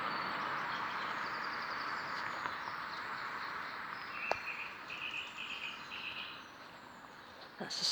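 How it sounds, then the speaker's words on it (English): A song thrush sings in short repeated phrases, fairly distant and partly masked by steady traffic noise, with a brief sharp knock partway through. "That's the Song Thrush."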